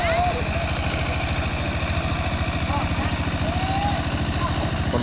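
A walking tractor's small engine runs steadily in a rice field, a fast, even chugging throb that holds constant throughout, close and prominent, with faint voices in the background.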